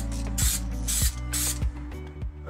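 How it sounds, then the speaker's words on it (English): Spray paint hisses in three or four short, loud bursts onto a Mitsubishi Express van's interior panel, each burst broken by a low knock or click from the can. "I'm just gonna try to spray with the sheet over the top."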